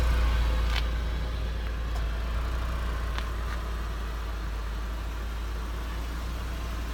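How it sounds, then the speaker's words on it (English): A 2008 Hummer H3 idles with a quiet, steady low exhaust rumble, close and even throughout, broken by a couple of faint clicks and no talk. "Hear how quiet that exhaust is."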